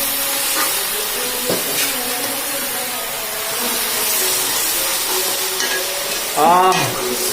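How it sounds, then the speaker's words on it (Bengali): A bachelor-style vegetable curry with chili is stirred in a hot pan: a loud, continuous sizzle with scraping strokes of the spoon and a brief clatter near the end. "এবার আমরা এটাকে একটু নাড়াচাড়া করবো মিশিয়ে দিব এটা মিশিয়ে দিতে হবে"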